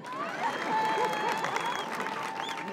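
Audience applause at a live comedy show, a steady wash of clapping from a crowd heard throughout, with a voice and some music tones running over it.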